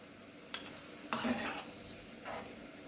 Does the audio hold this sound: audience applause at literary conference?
no